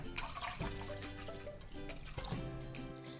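Water poured from a glass into a cooking pot holding a turmeric tempering for lemon rasam, a close gurgling, splashing flow with uneven bursts and ringing tones, and no voices.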